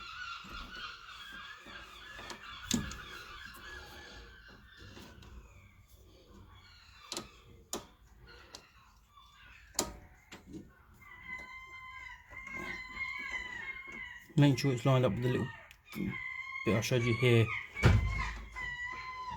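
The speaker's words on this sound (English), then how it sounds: "Seagulls are fighting on the roof." Seagulls fighting on a roof let out squawks and honking calls in bursts, growing louder and more frantic toward the end, mixed with someone talking and scattered thumps.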